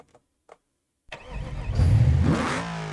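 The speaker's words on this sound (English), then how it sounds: "at least this has a half-decent sounding engine" A Holden VL or VN car engine in the video game BeamNG.drive cranks to life after a second of near silence, then revs up loudly and holds a steady roar.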